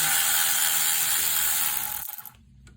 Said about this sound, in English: I got this nifty Milwaukee electric ratchet.